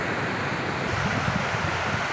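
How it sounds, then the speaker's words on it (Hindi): Subarnarekha river water rushing and churning below Dhurwa dam, a steady broadband roar with no pauses, close and continuous throughout. "इस तरह कलकल करती हुई स्वर्णरेखा नदी आगे की ओर"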